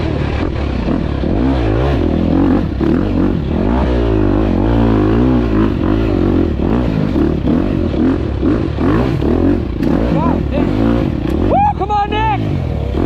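An enduro dirt bike engine on a rough wooded trail keeps revving and bogging up close, rising and falling continuously with clatter from the terrain and a voice speaking over it.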